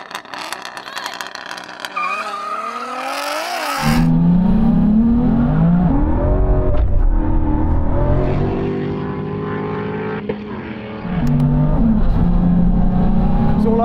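A BMW M3 and a Ford Mustang launch side by side in a drag race, engines roaring loud and close with rising revs, a sharp gear change, then continued hard acceleration.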